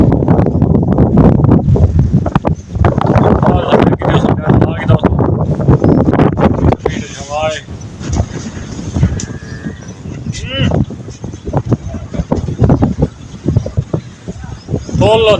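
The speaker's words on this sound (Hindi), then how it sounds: "ठंडी ठंडी हवा चली गई" Cold wind blows across a village, rumbling loudly and continuously on the microphone, with a person talking throughout and a few bird calls in the middle.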